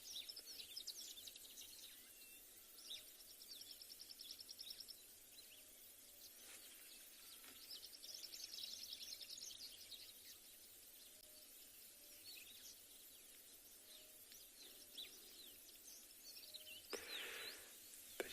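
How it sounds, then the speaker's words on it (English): Birds calling at sunrise on an African safari drive, with several high chirps and short songs scattered through the scene, faint and distant over a steady low hum of a vehicle and insect background, no talking. "you can hear the bird activity"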